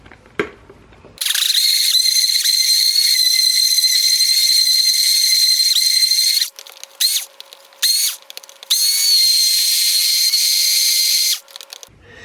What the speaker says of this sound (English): Let me give it a mix with my wand mixer.